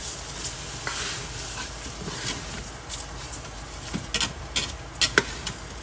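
Rice with spices frying for Guyanese-style pepper shrimp fried rice, a continuous sizzle with stirring, growing into sharper scraping clatters of the spoon toward the end.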